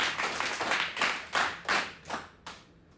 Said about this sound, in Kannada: ಒಂದು ಚಪ್ಪಾಳೆ ಕೊಡಿ